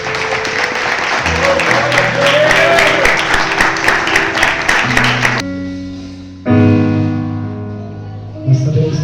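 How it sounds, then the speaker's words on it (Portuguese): A church congregation claps in a dense, lively burst over sustained musical tones, then the clapping stops suddenly and the music carries on alone, swelling in places. "E as palmas são para o Senhor"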